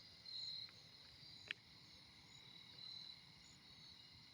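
A cricket chirps at night in short, high, steady trills that come and go, quiet against a soft background hiss, with a faint click in between.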